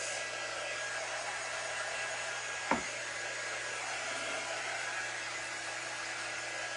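Hair dryer blowing steadily to dry a chalk paste pumpkin craft on a patterned cube, a constant airy whoosh with one brief sharp tap partway through, no talking.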